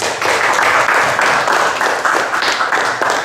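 Classroom applause from a group during a teacher's lesson, a steady dense patter of clapping that holds at an even level throughout with no break.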